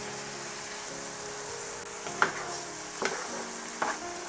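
Corn tipped into a pan of frying spinach: a soft steady sizzle with a few sharp scrapes and knocks of a utensil against the pan, fairly quiet and close, with no talking.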